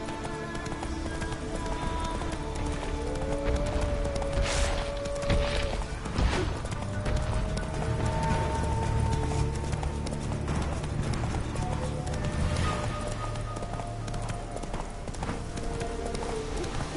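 A horse gallops in the video game Witcher 3, rapid rhythmic hoofbeats clip-clopping steadily throughout, with occasional game effects and brief tonal sounds over the run.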